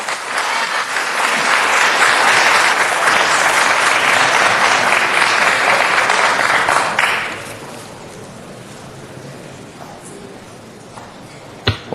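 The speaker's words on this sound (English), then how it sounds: "Well, with that round of applause" Audience applause fills a city council meeting chamber as a dense, even wash of clapping for about seven seconds, then quickly fades to quiet room tone with a few faint stray sounds.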